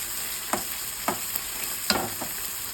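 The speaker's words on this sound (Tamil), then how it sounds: "லைட்டாக கிண்டி விட்டுக்கலாம்." Green chilli and coriander leaves frying in a pan, a soft steady sizzle with three or four light stirring scrapes, close and fairly quiet.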